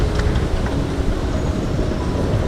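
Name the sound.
London Underground metro train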